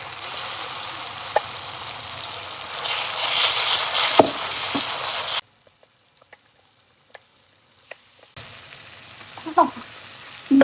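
Spice paste frying in hot coconut oil gives a loud, steady sizzle for about five seconds, then drops to near silence, before a fresh burst of frying hiss with a few stirring clicks returns near the end.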